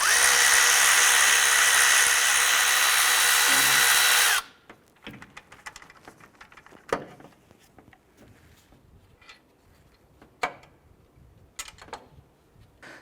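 Power tool on the upper alternator pivot bolt of a 2001-2005 Honda Civic, a loud, steady whir for about four seconds that stops abruptly, followed by scattered quiet clicks and taps of handling.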